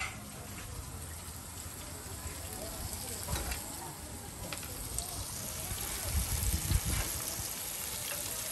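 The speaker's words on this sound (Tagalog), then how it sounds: "Fried ng ating calamari." Calamari deep frying in hot oil for a Saturday dinner, giving a continuous bubbling sizzle that swells and crackles louder near the end, with some talking in the background.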